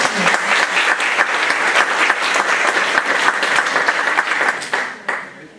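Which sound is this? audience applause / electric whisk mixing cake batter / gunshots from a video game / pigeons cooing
audience applause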